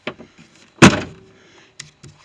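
The door of a 1992 Chevy Silverado pickup strikes its latch with a single hard, close thunk, with a few faint knocks and rattles before and after.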